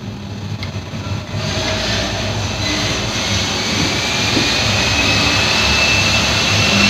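A sewing machine stitching a zip pocket on a salwar starts up after about a second and runs as a steady, loud motor whirr that continues unbroken to the end.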